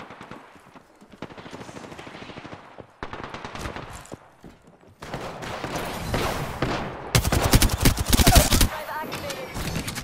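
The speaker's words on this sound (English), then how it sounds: "They're shooting at me." Bursts of rapid gunfire in Apex Legends, sporadic at first then building into dense, loud automatic volleys near the end, with game sounds and a voice talking in between.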